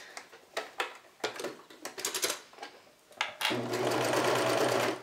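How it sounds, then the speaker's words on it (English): A serger stitches stretch binding onto a bodysuit, starting with short stop-start bursts and then running steadily and loudly in one long continuous whir, close up with no talking. "now we're going to sew this into place. I'm using my serger, but you could also use a regular sewing machine."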